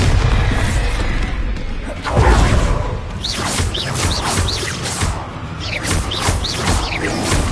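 Spell combat in Hogwarts Legacy, with a heavy Bombarda blast booming out amid whooshing casts and crackling magical bursts, loud and close, repeating in quick succession.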